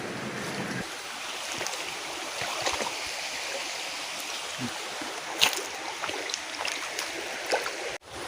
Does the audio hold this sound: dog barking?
no